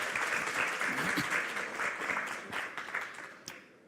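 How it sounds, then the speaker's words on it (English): Audience applause at a regional business summit for the panel speakers, a dense wash of clapping that holds steady and then tapers off toward the end. "let me have a big applause for our panel speakers"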